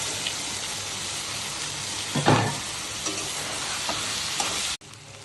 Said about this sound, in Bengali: এখানে আমি করলা ভাজি করতেছি, কাঁচামরিচ, পেঁয়াজ